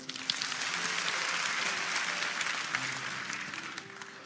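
A church congregation at a Sunday worship service breaks into sustained applause, a thick, even roar of many clapping hands filling the room at full strength throughout, with faint tonal background beneath.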